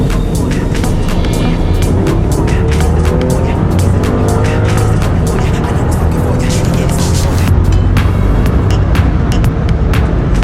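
Rolls Royce Ghost Mansory with a 12-cylinder engine accelerating hard, a loud continuous roar with rising engine pitch and wind noise, close up inside the car, with no talk.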